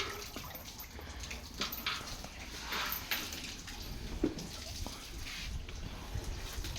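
A buffalo drinks lukewarm water, with uneven sloshing and splashing close by over a steady low rumble of outdoor noise.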